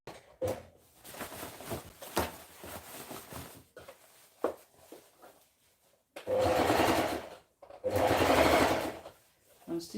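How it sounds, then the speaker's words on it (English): Domestic sewing machine stitching around a dress sleeve, running in two loud sustained bursts near the end after quieter handling and a few soft clicks, close up. "So I'll just go ahead and adjust the sleeve as I stitch and go around."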